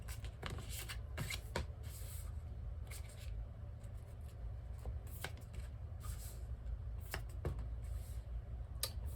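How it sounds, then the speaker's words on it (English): Tarot cards are shuffled by hand in short, irregular bursts of riffling and slapping, close and fairly quiet, with pauses between. "Keep shuffling"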